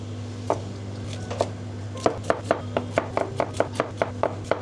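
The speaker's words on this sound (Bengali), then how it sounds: "ব্যাস ফুলকপিগুলো কেটে নিয়েছি" A knife chopping cauliflower finely on a board, a run of sharp, evenly spaced taps that speed up slightly, close and moderately loud over a steady low hum.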